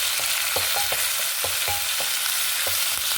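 Tomato chutney ingredients with curry leaves and tamarind sauté in a pan, giving a constant bright sizzle under repeated knocking and scraping stirs of a spoon, close and steady with no voices.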